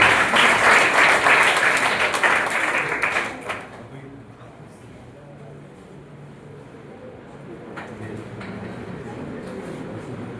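An audience at a motivational seminar applauds to welcome a speaker, with dense crowd clapping for about three and a half seconds that then dies away into quiet room noise.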